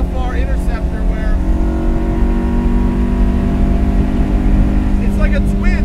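A 1969 Lancia Fulvia Rallye 1.6 HF with a four-cylinder engine runs at high revs, giving a loud, steady, buzzing drone close by, with voices briefly audible over it.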